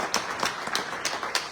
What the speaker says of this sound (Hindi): मैं चाहता हूं उनके लिए जोरदार ताली बजा दी जाए